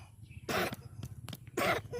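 A child coughs in two loud, harsh bursts with a few shorter catches between them, close by, over low background murmur on a breezy day out by boats and fishing.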